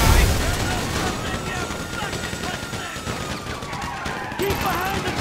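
Dense, continuous gunfire in Grand Theft Auto 5 during a bank heist, a steady barrage of shots with explosive crashes and a busy, loud battle ambience throughout.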